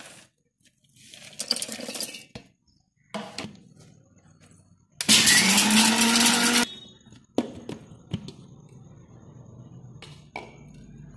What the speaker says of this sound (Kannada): ಇದು ಇದನ್ನೆಲ್ಲ ಒಂದು ಮಿಕ್ಸಿ ಹಾಕ್ಕೊಳ್ಳೋಣ.